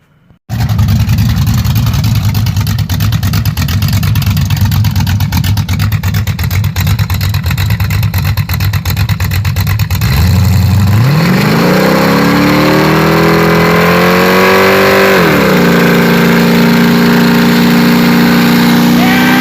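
A car engine rumbling loud and close, then revving hard and accelerating with rising pitch through a gear change before settling into a steady higher drone.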